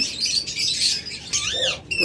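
Chirps and tweets from an opaline budgerigar pair of the split blue type fill a bird shop, with bright overlapping calls and short warbling notes continuing steadily throughout.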